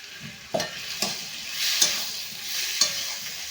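Spice paste of ginger and garlic sizzles in a pan while a spoon stirs it, with soft frying crackle underneath and a few distinct scraping stirs spaced about a second apart, fairly quiet and close.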